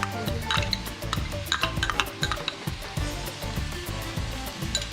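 Ginger garlic paste fries in a pan with onions for chicken capsicum, a steady sizzle broken by repeated scraping and clinking strokes of a spoon stirring against the pan.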